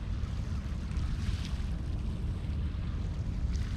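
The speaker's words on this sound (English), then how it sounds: "Can you hear the river?" Water of the River Humber surging past a boat on a sunny fishing day, a steady low broadband rush with some wind buffeting, continuous and fairly close, with no voices.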